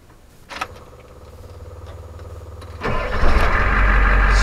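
A Ford OBS truck's 7.3 IDI diesel engine cranks with a steady mechanical whir after a brief click, then catches and fires up into a loud, rough idle, heard up close with no talking.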